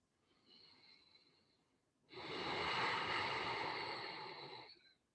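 Ujjayi yoga breathing, a soft ocean-like breath: a faint airy inhale, a brief pause, then a louder, longer rushing exhale, close and alone.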